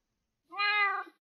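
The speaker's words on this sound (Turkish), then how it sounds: "Meow diyor ya." A single cat meow, short and clear, rises and falls over about half a second against silence.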